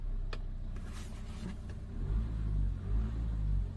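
A Nissan Qashqai diesel engine cranks and catches after a push-button start, settling into a low, close rumbling idle that swells in a couple of surges.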